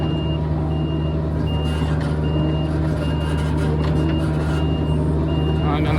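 A reversing alarm beeps in a steady, evenly spaced series of about ten tones over a loud, constant diesel engine drone from an excavator working on a farm, both heard close by.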